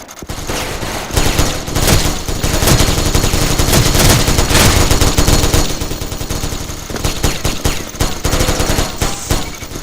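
A Gatling gun fires in a video game, loud sustained rapid bursts of automatic gunfire rolling almost without pause, with brief lulls between volleys.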